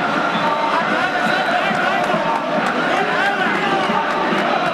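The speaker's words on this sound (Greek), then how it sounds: "Χειροκροτήματα, πανηγυρισμοί στην κερκίδα για τον γκολ του Σέρβου." A stadium crowd at an OFI versus Panionios football match roars and cheers after a goal, a dense, loud, sustained wall of noise with a commentator talking over it.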